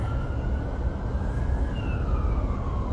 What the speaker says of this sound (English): This ambulance is going around.